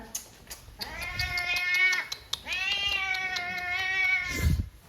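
An unowned village cat meows twice, long drawn-out wavering cries up close, separated by a short pause, with a soft rustle at the end.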